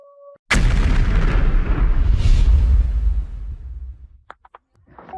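One massive explosion at the port of Tuapse booms out suddenly and loud, its deep roar rolling on for about three seconds before fading into scattered faint cracks.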